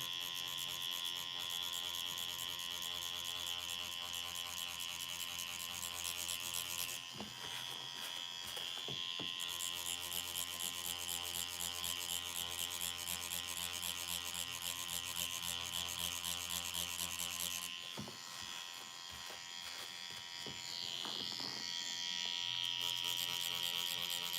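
A tattoo machine running while inking skin, a continuous close electric buzz with brief pauses and small rattles, steady and fairly loud with no talking.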